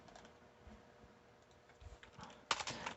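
Code is typed on a computer keyboard while a game is built in Unity, giving quiet, scattered key clicks that end in a brief, louder burst of taps. No one speaks.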